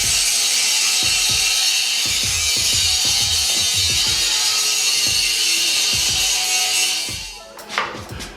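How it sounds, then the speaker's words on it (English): An angle grinder works a steel front bumper for a third-generation Toyota 4Runner, giving a bright continuous whine with rhythmic scraping pulses before the tool winds down and stops near the end. "So I'm gonna move forward and get to grinding."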